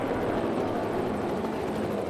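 A Lucas Oil camera helicopter at the Brainerd MotoAmerica King of the Baggers race makes a steady, continuous rotor and engine drone overhead, even and unbroken throughout, with no voices.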